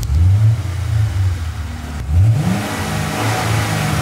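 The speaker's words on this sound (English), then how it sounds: "I need to teach you how to rev cars" A car engine revs loudly nearby, surging at the start, then climbing again in a second rev before settling into a steady drone.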